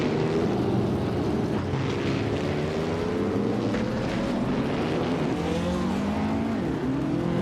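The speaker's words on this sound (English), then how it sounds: "Pippi Langström's car is a 1952 Cosma Offie, a classic Indy car known for its vintage charm." A 1952 Cosma Offie Indy race car in a racing video game drones steadily, its engine pitch sweeping up and down as it runs the course, loud and continuous with no voices.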